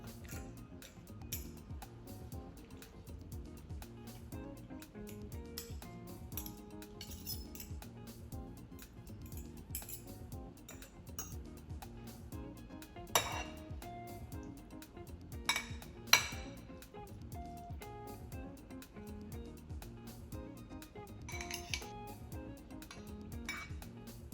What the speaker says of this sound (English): Using a fork and spoon, swirl the pasta and place neatly on the plate.